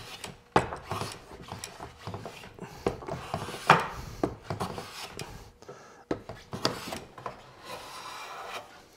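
A hand plane shaves curly maple for small drawers, giving repeated close rasping strokes of uneven length, punctuated by sharp knocks and clicks from the tool, with no speech.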